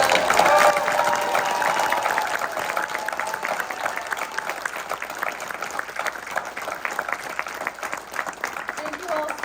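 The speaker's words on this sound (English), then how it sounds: "One more round of applause." A theater audience at a Lost Boys reunion panel breaks into a warm round of applause, dense clapping with light cheering that stays loud and steady before tapering slightly, with a voice audible over the start.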